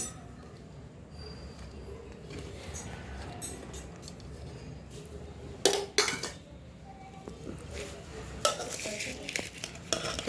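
Bhel with onion added is tossed and mixed in a bowl for four or five people, with soft rustling and spoon clinks that grow into sharper scrapes, close by and quiet overall.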